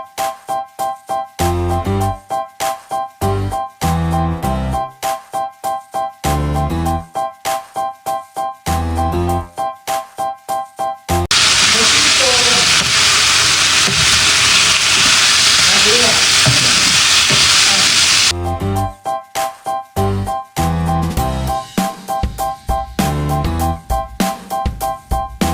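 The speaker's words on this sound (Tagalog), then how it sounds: "Igigisa ko na po itong bawang. Isusunod ko na rin po itong mga sibuyas." Garlic, then onions, hit a hot pan and sizzle loudly and steadily for several seconds, set between stretches of rhythmic music.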